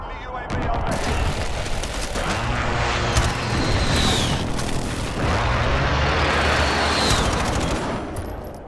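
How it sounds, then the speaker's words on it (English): A friendly precision airstrike in Call of Duty: Modern Warfare blends with sustained machine-gun fire and booming impacts, loud and continuous, with two whistling swoops overhead. "Be advised, friendly precision airstrike inbound."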